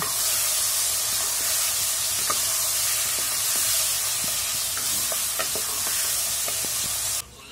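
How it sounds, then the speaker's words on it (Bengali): Vegetables sizzle loudly in a hot pan while a utensil scrapes and taps at irregular moments, the frying hiss constant throughout. "দুই থেকে 3 মিনিট ধরে সবজিগুলো ভাজার পর"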